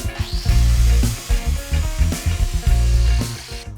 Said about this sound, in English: Now I'm just going to cut it onto the other bit of wood